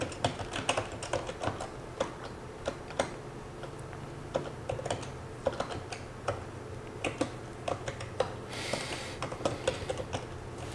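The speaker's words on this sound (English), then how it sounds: "Type our hello world code." Code being typed on a computer keyboard for a hello world project in Visual Studio Tools for Dynamics GP, with steady quiet key clicks in irregular bursts alone throughout.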